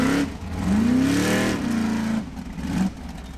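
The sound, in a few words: Formula Offroad car engine revving on track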